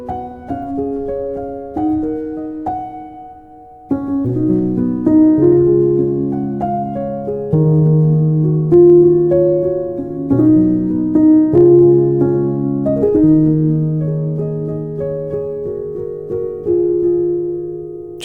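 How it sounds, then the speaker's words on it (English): A soft, muted felt piano from the Keyscape virtual instrument plays a gentle melody over sustained chords, mellow and close, with notes overlapping warmly and no speech. "the felt piano has been getting really popular, and it sounds really good too"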